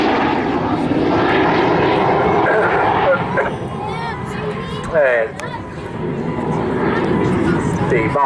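BAC Strikemaster jet training aircraft flying past at the Southport Airshow, a loud sustained engine roar that swells and fades beneath continuous commentary from a nearby announcer.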